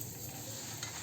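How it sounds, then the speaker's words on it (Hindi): A tadka of hot spiced oil is poured into leftover kadhi in a home kitchen, giving a steady, close hiss and crackle of sizzling that holds evenly throughout. "यहाँ पे हमारी कल की कड़ी रखी थी, मैं उसमें तड़का लगा दिया है"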